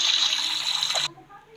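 Water runs from a tap while a character bathes in the Roblox game Brookhaven, a steady bright gush that cuts off abruptly after about a second, leaving quiet.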